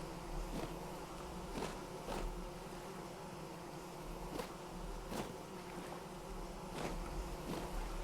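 Bees hum continuously around a skep in the video game Vintage Story, a low steady buzzing drone broken by a few short sharp clicks at irregular moments.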